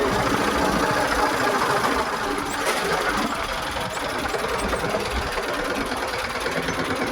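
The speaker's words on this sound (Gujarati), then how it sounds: "હાલે તો ટ્રેક્ટર" A tractor engine runs steadily on an evening outing, a loud, continuous mechanical drone with a rapid rattling chug and no voices.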